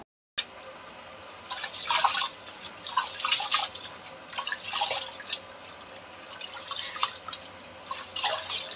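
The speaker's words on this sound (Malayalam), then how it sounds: "അപ്പോൾ അരി ഒന്ന് കഴുകിയിടട്ടെ" Rice being washed in water, with repeated bursts of swishing and splashing as the grains are stirred and rinsed, separated by quieter dripping gaps, heard up close with no one speaking.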